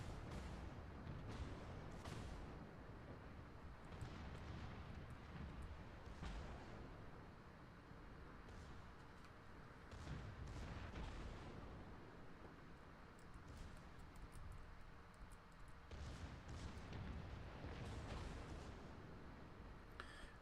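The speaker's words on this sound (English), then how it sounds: "secondary guns are actually opening up" Destroyer secondary guns firing in the Ultimate Admiral naval game, a continuous rumbling barrage of repeated booms at a fairly low, distant-sounding level with no pause.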